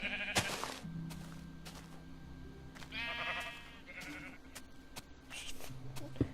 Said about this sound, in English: And there's another sheep.